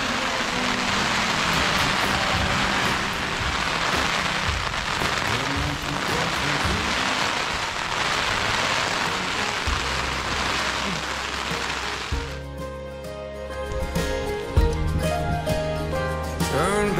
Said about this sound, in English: Rain on top of rain. On top of rain. And then a little more rain.